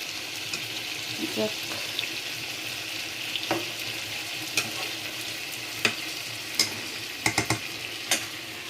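A pan sizzles steadily as fish fries in spices, with occasional scrapes and clinks of a spoon stirring, close up and without talk.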